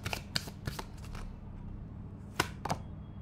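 Tarot cards being shuffled by hand in quick riffling bursts, a cluster of crisp flutters early on, a pause, then two more sharp riffles near the end, close and clear over a faint background hum.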